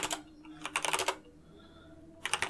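Bursts of quick computer keyboard typing, with several keys pressed in rapid clusters, are separated by a quiet pause. The keystrokes are crisp and close, with no voices.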